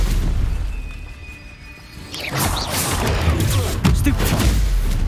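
Spell blasts and impacts in the video game Hogwarts Legacy: loud booming crashes and whooshing bursts that follow in quick succession over a low rumble, with a voice calling out under them.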